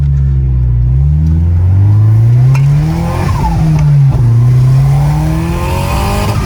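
A turbocharged BMW 316i/318i with an M43 engine, freshly dyno-tuned, revs hard through rising gears, a loud close roar climbing in pitch, dropping at each shift, then pulling up again.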